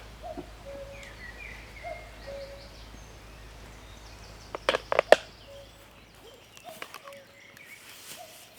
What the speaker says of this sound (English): Got the sound of cuckoos in the background.